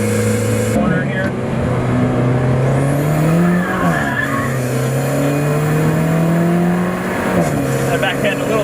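A sports car slides through a track corner with its tires squealing in long, wavering tones over a loud, revving engine, while someone talks over the noise.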